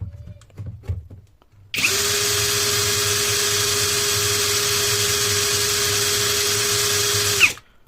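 A Dagmara 13mm brushless cordless drill whirs at a steady low speed, about 508 RPM, for about six seconds, a constant close motor hum starting and stopping abruptly, with some handling noise before.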